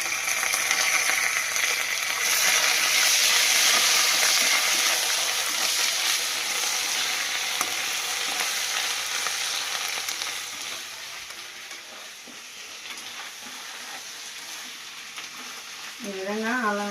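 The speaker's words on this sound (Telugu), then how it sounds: "ఈ విధంగా అల్లం వెల్లుల్లి పేస్ట్ పచ్చి వాసన పోయేంత వరకు పేస్ట్ వేసుకున్నాము." Ginger garlic paste fries in a pan with a steady, dense sizzle that gradually softens, and a voice speaks briefly near the end.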